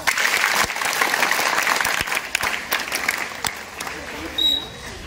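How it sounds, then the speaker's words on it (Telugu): Schoolchildren at a Children's Day celebration clap loudly for their teacher, a strong burst of applause that slowly thins and fades, with voices mixed in. "గట్టిగా క్లాప్స్ కొట్టండి"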